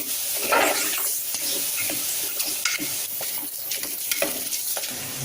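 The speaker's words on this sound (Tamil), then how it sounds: "இந்த மிச்சம் இருக்க நெய்யிலேயே இந்த பாசிப்பருப்பை வறுத்து ஒரு தடவை ஃப்ரை பண்ணிட்டு" Moong dal frying in ghee while a spoon stirs it in the pan, a steady close sizzle with repeated scraping strokes running through the whole stretch, no voices.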